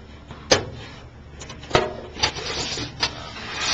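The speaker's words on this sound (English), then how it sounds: "The rollers down in here, you always want to make sure they're free to roll." Small rollers on an aircraft part are turned by hand to check they spin freely, making a few sharp clicks and knocks over light rolling rubs, close by with no talk.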